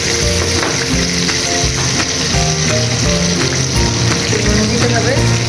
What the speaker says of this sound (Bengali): ভাজা হবে, একটু হলুদ দিয়ে ফুটে যাবে।